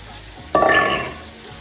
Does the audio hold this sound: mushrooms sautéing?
yes